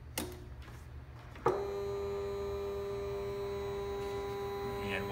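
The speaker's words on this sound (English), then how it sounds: "So you hear the motor making a little bit of noise." A stepper motor driven by a Geckodrive G203V/G213V microstepping driver hums with a faint steady tonal whine, starting after a small click and continuing evenly, quiet and close.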